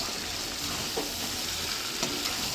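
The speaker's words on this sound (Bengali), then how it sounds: "আর এদিকে দেখো আমার মা তো একেবারে মাংস কষাচ্ছে।" Mutton being stir-fried (kosha) in a home kitchen pan, a steady close sizzle and frying hiss with occasional stirring scrapes, continuous throughout with no talk.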